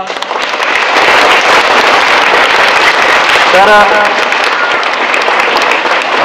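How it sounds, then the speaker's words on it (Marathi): An audience gives loud, sustained applause at an event, dense clapping filling the space with a short spoken word and a brief voice cutting in midway. "मॅडमसाठी एकदा जोरदार टाळ्या वाजवा"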